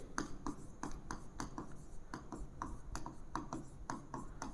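Quick tapping, scratching strokes of writing on a board during a physics lecture, a steady run of short marks close by with no talk over them.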